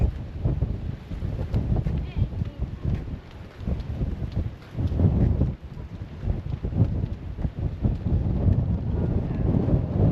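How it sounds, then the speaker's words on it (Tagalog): Gusty wind buffets the microphone outdoors at a scenic lookout, a loud continuous low rumble that swells and dips throughout, with no clear talk over it. "Medyo mahangin dito guys."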